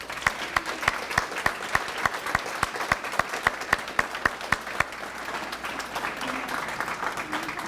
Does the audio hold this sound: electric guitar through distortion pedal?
no